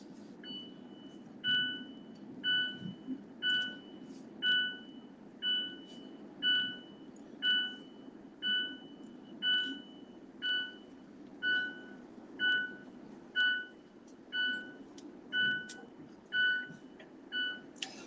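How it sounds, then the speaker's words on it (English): A car's seatbelt warning chime beeps in a steady, evenly spaced run of bright two-tone tones, about one per second, over a low idling rumble inside the vehicle, with no talking. "Don't have my seatbelt on, so my car is gonna beep."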